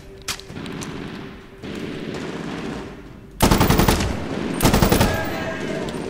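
Gunfire in the shooter game Medal of Honor: Warfighter: first muffled distant bursts, then loud, close, rapid automatic fire in two heavy volleys.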